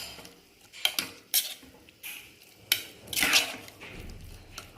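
A spoon scrapes and clanks against a pot while aviyal is stirred with yogurt, giving sharp irregular metallic knocks and rattles with quiet gaps between them, close up and with no talking.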